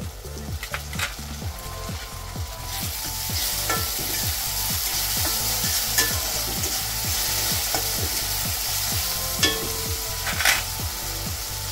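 Soaked moong dal sizzles and fries steadily in a hot pan for dill greens bhaji, with a rhythmic series of stirring scrapes throughout and a few sharp utensil clinks.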